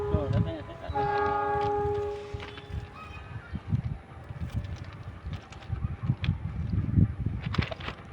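A train passes through an Indonesian railway setting, sounding a loud, drawn-out horn near the start, then a rumbling pass with rhythmic clatter beneath steady conversation between an adult and a child.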